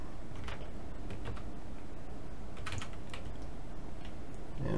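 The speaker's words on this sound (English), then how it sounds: "you can type in, I can type in a program here." Keystrokes on a USB computer keyboard as a program is typed into a homebuilt retro computer based on an ESP32-S3, small clusters of clicks coming steadily over a constant low hum, with no talking.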